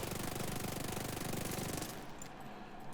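Hip-fire gunshots from a weapon in The Division 2 video game, a rapid continuous burst of rattling shots that stops abruptly after about two seconds, followed by quieter ambience.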